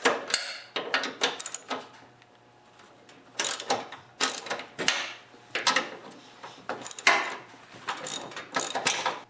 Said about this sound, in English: So I'm just going to loosen up the bolts by hand.